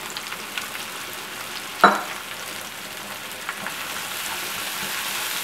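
Cumin and mustard seeds with cracked black pepper sizzle in hot oil, a steady fine crackle with one sharp pop early on, close and uninterrupted by voices.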